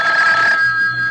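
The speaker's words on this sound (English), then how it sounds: "when I wasn't even thinking about the phone, it rang." An old-fashioned telephone bell rings in an old time radio drama, a single loud, close, metallic burst that cuts off halfway and leaves a low hum, with no talk.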